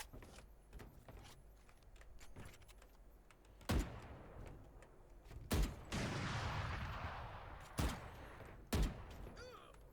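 Gunfire in the video game Valorant: several loud, isolated shots ring out at intervals among quieter clicks and footstep-like ticks, with a lingering noisy tail after some shots.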